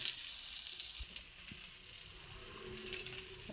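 Ragi adai cooks on a pan over a slow flame with no oil added, giving a steady, soft, close sizzle with fine crackles throughout and no voices.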